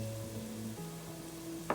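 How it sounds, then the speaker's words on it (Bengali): Ginger, garlic, onion and tomato fry in a pan as a steady, close sizzle plays alone, with a short clatter right at the end. "আদা রসুনকে ফ্রাই করার পর এখন আমি দিয়ে দিচ্ছি পেঁয়াজ কুচিগুলো।"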